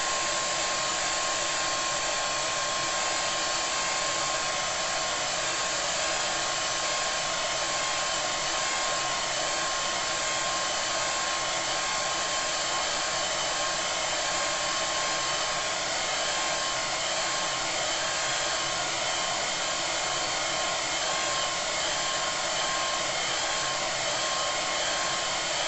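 A hair dryer blows steadily on a watercolour flower painting, a loud constant whirring roar held without break for the whole stretch, with no talk.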